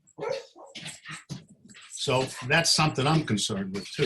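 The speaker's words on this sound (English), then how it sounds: "excuse my dog" A dog barks and yips repeatedly in a home while a person speaks over it, the barking close and insistent, mixing with the voice throughout.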